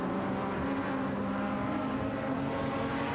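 A pack of four BMW 320i touring cars races in a row behind a Renault Megane at the 1997 Euro 2000 finale at Zandvoort, their engines a continuous distant roaring drone with no single car standing out.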